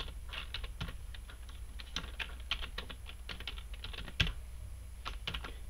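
Rapid keystrokes on a computer keyboard as a MySQL console command is typed, a quick uneven clatter of clicks with no talking.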